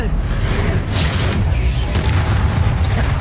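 Confringo blast spell exploding in the Hogwarts Legacy video game, a loud booming burst within a dense, continuous roar of combat effects that stays loud throughout.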